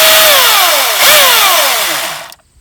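A cordless battery chainsaw runs loudly up close, its high whining motor gliding downward in pitch, briefly surging, then winding down and cutting off abruptly.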